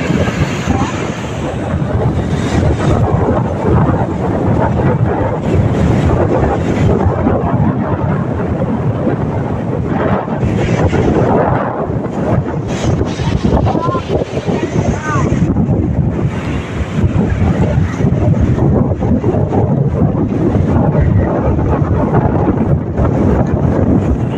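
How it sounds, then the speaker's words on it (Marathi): Sea waves crash on the shore at Kolthare beach in strong wind, a loud, continuous roar of surf and gusts with surges rising and falling throughout. "बघा कसा पाण्याची जी लाट मारते"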